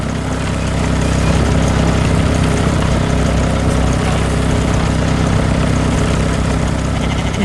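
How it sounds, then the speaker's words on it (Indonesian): Green farm machine working in a field in an animated cartoon, a continuous low droning engine hum that stays steady and fairly loud throughout, with no voices. "Mesin pertanian hijau sedang bekerja keras di tengah sawah, menanam benih dengan rapi dan cepat."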